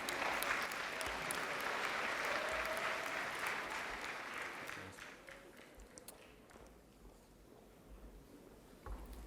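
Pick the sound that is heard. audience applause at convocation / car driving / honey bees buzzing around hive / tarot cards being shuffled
audience applause at convocation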